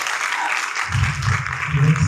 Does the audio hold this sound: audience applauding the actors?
yes